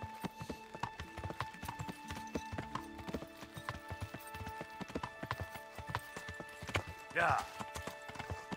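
Horse hooves galloping in Kingdom Come: Deliverance, a steady rapid clip-clop close by with jingling tack, while someone talks briefly over the rhythm.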